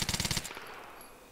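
A Vermin SMG fires a rapid burst of about eight shots in the Arma 3 video game, loud and close, cutting off sharply into a fading echo.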